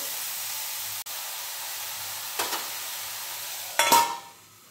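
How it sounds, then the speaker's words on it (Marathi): Purslane greens cooking on a low flame give a steady soft sizzle and hiss, with a couple of louder stirring bursts near the end, close and without talk. "मंद आचेवरती 5 मिनिटं शिजून द्यायची, झाकण ठेवायचं त्याच्यावर"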